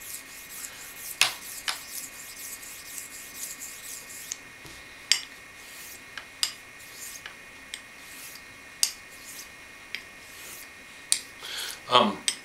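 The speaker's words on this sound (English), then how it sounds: "I'm going to cross the hone in the swooping action" Light strokes of a straight razor drawn across a sharpening hone in a sweeping motion, giving soft scraping rubs with sharp little clicks roughly every second, close and quiet against a faint steady hum.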